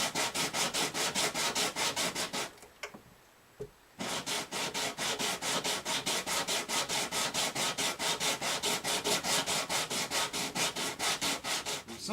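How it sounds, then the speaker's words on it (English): Hand sanding of a Gibson J40 acoustic guitar bridge with 800 grit sandpaper: fast, even back-and-forth rubbing strokes, close and steady, with one short pause partway through. "got 800 grit here on this now. I'm just going back over it one more last time to smooth it down"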